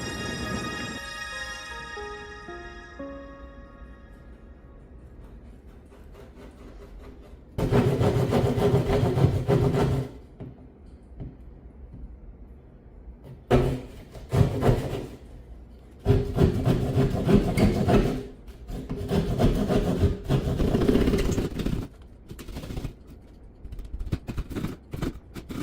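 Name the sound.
drywall saw cutting hole for electrical box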